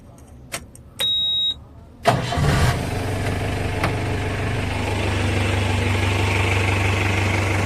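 A restored Mahindra Thar 4x4 with a custom silencer: a few clicks and a short electrical whir come first, then the engine cranks and catches, settling into a steady, loud idle close by.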